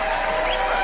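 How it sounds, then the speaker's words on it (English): Audience applause fills the short stretch as a steady, dense wash of clapping at moderate volume, with no pauses or distinct voices standing out. "I'm gonna give you some applause for that"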